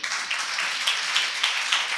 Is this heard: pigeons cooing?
no